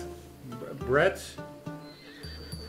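A horse neighs once in Assassin's Creed Odyssey, a close, rising whinny near the middle, surrounded by quieter game sounds and a voice talking.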